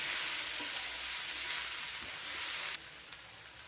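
Cashews dropped into onion gravy frying in a pan for mushroom tikka masala, a close, steady oily sizzle with a few soft stirring scrapes near the end.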